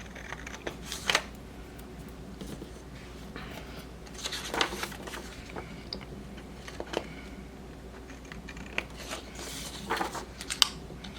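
Scissors snip off a piece of paper for a handmade disc-bound bullet journal with Dutch doors, giving a few sharp, close cuts scattered between quieter pauses.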